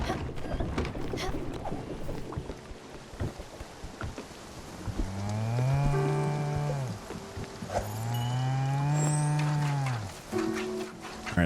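Cartoonish cow moos in the video game Spiritfarer, two drawn-out tonal lowing calls in a row over clicky mechanical game sounds, with no talking.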